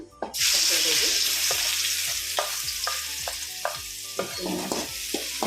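A Pathrode ghashi tempering spits and sizzles loudly in hot oil, a steady bright crackle with repeated scraping stirs and light knocks throughout, no voices.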